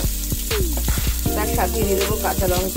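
Chopped onions sizzle in hot oil for upma, a steady crackle with a few spoon clinks, while someone talks over it.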